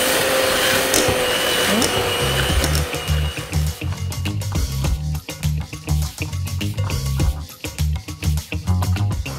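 A blender whirs loudly and steadily as it mixes a dessert batter with nuts, its motor churning with a rhythmic, pulsing grind throughout.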